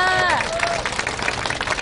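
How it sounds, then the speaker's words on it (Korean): An audience at an outdoor street rally in front of an embassy claps for singers who just performed, with steady crowd applause mixed with babble and some cheering, while a fading sung or tonal phrase trails off at the start. "너무 노래 열심히 해준 분들께 박수 한번 부탁드립니다"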